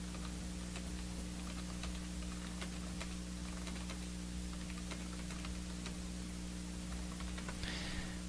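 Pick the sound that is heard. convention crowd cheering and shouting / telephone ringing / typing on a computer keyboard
typing on a computer keyboard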